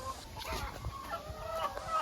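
On a frog farm with earthen ponds, chickens cluck and a rooster calls faintly in the background, steady low farmyard noise with scattered short calls.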